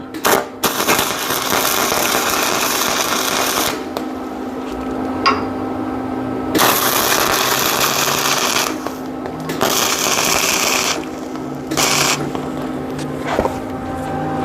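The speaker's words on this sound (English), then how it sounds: "I'm gonna weld this, so watch your eyes" Tack welds being laid on a go kart frame, giving loud continuous crackling buzz bursts of a few seconds each with short breaks between them, close up and without talk.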